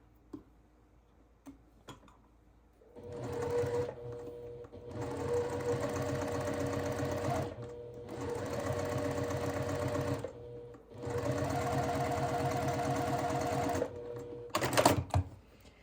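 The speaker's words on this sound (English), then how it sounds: "go ahead and sew all of your curves just like that" A sewing machine stitches a curved seam on a quilt block in three long, steady runs of rapid needle clatter separated by short pauses, close and clear, with faint clicks before and a brief rattle at the end.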